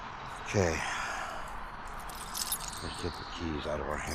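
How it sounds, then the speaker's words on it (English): A bunch of keys jangles and clinks in a hand, with a brief burst near the start and more rattling toward the end, while a voice talks throughout. "let's get the keys out of our hand before we"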